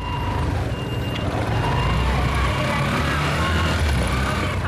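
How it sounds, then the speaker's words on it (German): A busy tuk-tuk drives along in Thandwe, Myanmar, its motor a dense, constant rumble with broad road and wind noise, loud and steady throughout. "Das Tuk-Tuk, mit dem wir nach Hause fahren, ist gut besetzt."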